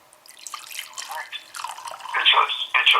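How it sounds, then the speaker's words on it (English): Balvenie Caribbean Cask whisky is poured into a glass, a close, trickling liquid splash that builds and gurgles louder over a few seconds. "I'm going to go ahead and pour myself a stiff one here"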